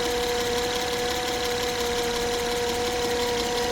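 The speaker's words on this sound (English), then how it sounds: "alternator is making a whining sound, so let's hear that" A whining alternator on a 2010 Acura TL with a charging-system fault drones steadily beside the running engine, a constant close tonal whine over engine rumble with no pauses.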